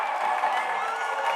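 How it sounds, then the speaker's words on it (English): A crowd roars and cheers continuously at a boys' varsity high school basketball region final as students and fans pour onto the court after the win, a dense, loud wall of shouting and whooping. "the students and the crowd go onto the court to celebrate this huge win"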